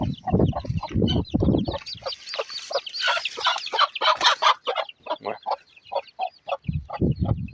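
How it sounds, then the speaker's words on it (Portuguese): A protective mother hen clucks and squawks agitatedly up close, with bursts of harsh, rapid calls and a few lower clucks, clear and fairly loud. "Uma assim é a galinha."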